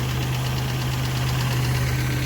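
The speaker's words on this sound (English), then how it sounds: "A little bit of a lifter tap, so I'm going to have to fix that." Car engine idling after a head gasket job, with a pronounced lifter tap: a loud, steady low rumble overlaid by a rapid, even ticking that repeats throughout, close up and with no talk.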